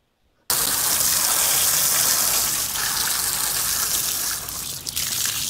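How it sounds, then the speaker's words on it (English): Water sprays hard onto a refrigeration evaporator during cleaning, starting abruptly after a moment of quiet and then gushing loudly and steadily with no talk. "So what he's trying to prevent here is water from getting into the lines as he's cleaning the evaporator."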